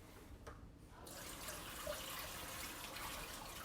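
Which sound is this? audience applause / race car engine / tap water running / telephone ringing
tap water running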